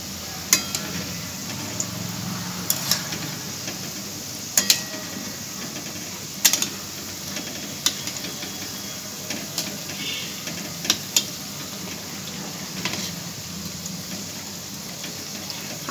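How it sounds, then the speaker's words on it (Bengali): Balushahi sweets fry in oil in a kadai, a low continuous bubbling hiss broken by scattered sharp clicks and taps, close by and without voices. "আবারও পিঠটা ভালো করে ভেজে নিচ্ছি।"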